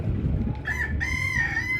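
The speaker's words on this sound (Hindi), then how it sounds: "अब मुर्गी देखिए कैसे बोल रही है" An Aseel hen gives a drawn-out, wavering call, nearby and clear over a low rumbling background.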